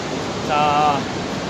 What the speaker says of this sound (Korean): 정말 멋진 폭포가 쏟아져 내리고 있습니다